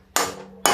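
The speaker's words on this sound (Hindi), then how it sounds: "ये कढ़ाई उतार के इधर रख देते हैं।" Metal kadhai pan set down on a kitchen surface, two sharp ringing clanks close by, the first decaying briefly before the second strikes.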